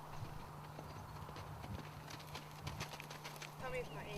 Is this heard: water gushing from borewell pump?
no